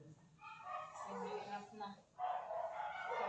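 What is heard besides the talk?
dogs barking outside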